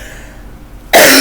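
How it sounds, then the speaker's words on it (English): A single sharp, loud cough bursts out close to the microphone right at the end, after a second of quiet room tone. "I don't know why I'm coughing."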